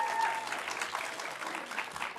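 Audience applause at an evening education event, a steady wash of many hands clapping at moderate distance, fairly soft and even throughout.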